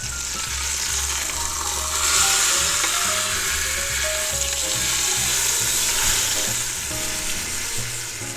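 A beef pot roast sears in an Instant Pot with a loud, continuous close sizzle that swells briefly as the meat is turned, steady throughout with no voices.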